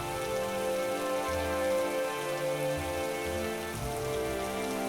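Heavy cartoon rain pours steadily throughout, a dense continuous hiss of drops on surfaces, loud and close, with a soft tonal music bed running underneath and no voices.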